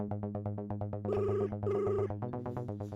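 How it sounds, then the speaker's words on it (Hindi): A mobile phone rings with a missed call in a Taarak Mehta Ka Ooltah Chashmah scene. The ringtone is a bright, repeating electronic melody with a steady pulsing beat and rising tone bursts, clear and alone with no talk. "भिड़े, रिंग जा रही है।"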